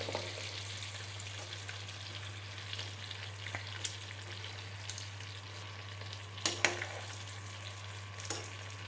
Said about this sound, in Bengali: আঁচ কমিয়ে এটাকে ভাজবো